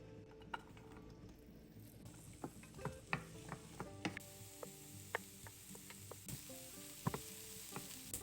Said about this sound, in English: I'm gonna add in my carrots and onions. I'll saute that until they just start to soften